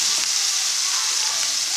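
Ground paste is poured into a hot pan with dried fish and brinjal and sizzles loudly and steadily, close up and with no talk.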